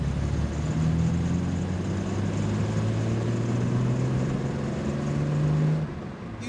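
The 3.8-litre XK straight-six of a classic Jaguar XK150 drones steadily from inside the moving car, a low, even engine hum with slight rises in pitch, fading at the end.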